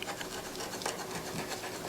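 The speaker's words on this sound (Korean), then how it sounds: "칼을 이렇게 넣고 살짝 세우셔서 톱질하듯이 살살살 톱질하듯이" A knife saws gently back and forth through a cucumber cake, making a faint, continuous scratchy rasp with soft repeated strokes and no talking.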